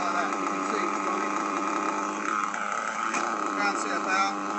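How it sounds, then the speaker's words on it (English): A race-tuned engine idles steadily after tuning, giving a continuous, even droning hum at close range throughout. "If your engine's set, it should run all right like that."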